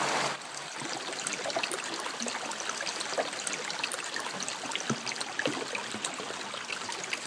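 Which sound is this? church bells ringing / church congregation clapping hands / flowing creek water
flowing creek water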